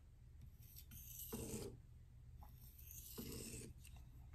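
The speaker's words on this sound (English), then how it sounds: "I'm just gonna draw that burr out a little bit with some straps" A sharpened knife edge is drawn along a strop to pull off the burr after honing on a Venev resin-bonded diamond stone, giving a few soft, close rasping strokes separated by pauses.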